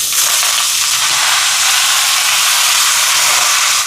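Ponnanganni spinach fries with onions in a hot pan, giving a loud, dense, continuous sizzle and hiss that is close up and steady throughout the four seconds. No one speaks.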